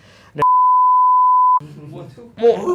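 Censor bleep: a single steady electronic tone lasting just over a second cuts across casual Indonesian conversation, with voices before and after it.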